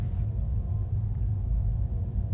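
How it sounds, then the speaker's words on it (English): A low, steady rumble of distant thunder from an approaching storm rolls on continuously without a break, deep and heavy, with no voices over it. "Looks like a storm is coming."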